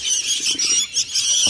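Sooty-headed bulbul (kutilang) chicks from Banyuwangi, sixteen of them in a cardboard box, squeal together in a shrill, overlapping, near chorus of high cries.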